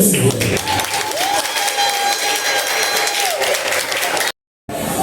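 A church audience applauds the team, dense steady clapping with crowd noise that holds for about four seconds, breaks off into a brief silence, then resumes.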